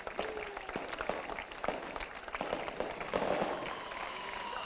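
Fireworks over the podium at the FIA Karting World Championship in Napoli, sharp bangs and crackles popping repeatedly amid crowd applause and cheering at a moderate distance.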